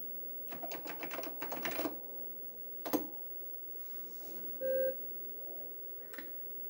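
Login being typed on a Burroughs/Unisys ICON computer keyboard: a quick burst of close key clicks, a lone sharp keystroke, then a short electronic beep and a final click, quiet room otherwise.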